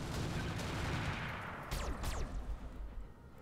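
Weapons fire in the RogueTech mech video game: a dense burst of booming shots that rumble and fade, then two sharp whooshing projectile sweeps, all fairly close and loud.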